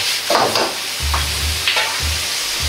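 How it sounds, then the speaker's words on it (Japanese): Pork and bean sprouts are stir-fried in a wok as Shaoxing wine and soy sauce go in, giving a loud hissing sizzle with rhythmic scraping and clanking of the spatula every half second or so, close up and without voices. "紹興酒と醤油を鍋肌から入れて香りを出します。"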